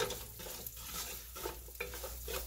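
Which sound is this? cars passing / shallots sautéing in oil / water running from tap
shallots sautéing in oil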